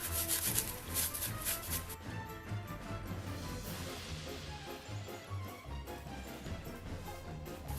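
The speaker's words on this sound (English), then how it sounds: "I'm going to try a baby wipe. I don't want to rub it all off." A baby wipe rubs over a painted box, partly wiping paint to reveal silver beneath; a steady, close scrubbing and scuffing continues throughout, with no talking.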